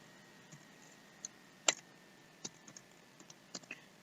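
Sparse, faint key clicks from a computer keyboard as a web address is typed into a browser during a WordPress install, with a few soft, irregular taps over quiet room tone and no talking.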